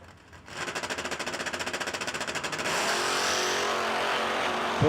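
At a no-delay nationals drag race, a Cutlass and a Monza launch with a rapid stuttering engine chatter that builds into a loud, sustained roar as they pull away.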